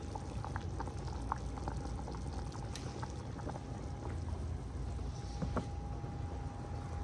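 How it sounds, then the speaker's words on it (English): Steady bubbling and hissing of a pot of Zuppa Toscana soup at a rolling boil, with small pops and gurgles throughout, close and continuous. "This one's actually boiling, so I am going to turn it down."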